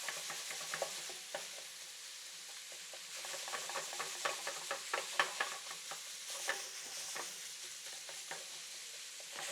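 Ground beef and shallots frying in a pan while being broken up, with a soft steady sizzle and a run of sharp tapping scrapes from a utensil, fairly faint and without voices.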